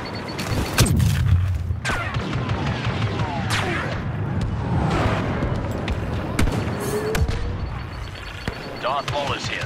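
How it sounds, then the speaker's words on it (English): Automatic gunfire in a video game, heavy booming shots and bursts over a dense layer of battle effects and rumble, loud and continuous, with voices speaking over parts of it. "Auto gun ready to go."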